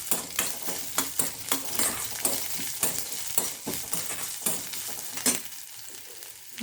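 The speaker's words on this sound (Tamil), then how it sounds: "இதை கொஞ்சம் வதக்கிக்கலாம்" Ginger and green chillies sautéing in a pan for a Tirunelveli-style vegetable sodhi: a close, bright sizzle broken by a quick, regular series of stirring scrapes and pushes, with no talking.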